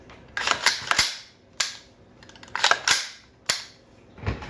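A Ruger MPR rifle is dry-fired during a function test: a series of sharp metallic clicks and snaps, several in quick clusters with short pauses between, close and crisp with no talking.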